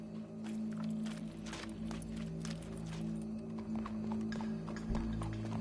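In Red Dead Redemption 2, horse hooves clip-clop at a walking pace over a low, steady musical drone, with irregular sharp hoof strikes scattered across the moment and a brief low thump near the end.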